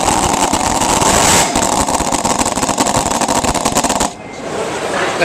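A running model diesel-electric engine with an alternator, at a model engineering society show, gives off a steady, loud, buzzy mechanical drone with rapid firing pulses. It drops suddenly to a softer hum near the end.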